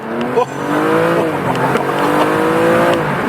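A tuned BMW M235i accelerating hard: a loud, sustained engine roar with rising pitch sweeps as revs climb and shift, heard from inside the car and steady throughout.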